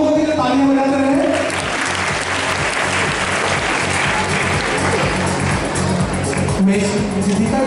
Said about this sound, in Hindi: आप लोग जरूर इन लोगों के लिए तालियां बजाते रहे